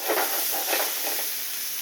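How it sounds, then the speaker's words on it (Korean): Vegetables stir-frying over high heat in a hot pan with soy sauce poured in, a bright close hiss and sizzle with brief surges of spitting. "가볍게 마지막에 넣은 야채를 볶아준 다음에 저는 간장을 한번 둘러줘요"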